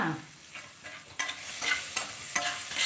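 Vegetables are tossed and stirred in a hot pan for a home dinner. Irregular spatula scrapes and tossing rise over a continuous sizzle of frying, close and fairly faint.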